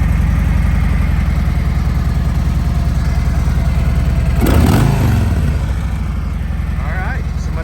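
A motorcycle engine idles with a deep, throbbing rumble, then briefly revs up and settles back to a steady idle.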